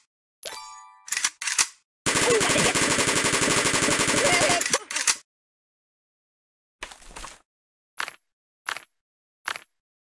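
Gunfire at the shooting range in the Kick The Buddy mobile game: a few sharp single shots, then a long sustained automatic burst of roughly three seconds, followed by silence and scattered short shots and dings.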